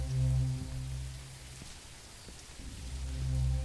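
Rain falls steadily inside the horror video game MEAT, a continuous soft hiss over a low droning hum that swells and fades, with no voices.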